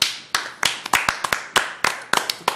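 Sharp hand claps, about a dozen in a slightly uneven rhythm, close and fairly loud with no one talking.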